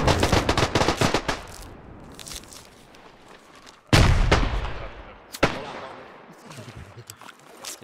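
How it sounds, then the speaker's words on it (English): Gunfire in the World War I shooter Beyond The Wire in the Argonne Forest, with rapid rattling bursts at first, then a heavy near blast and another sharp shot that echo away, and people talking between. "Or they're shooting because they were team killing between each other."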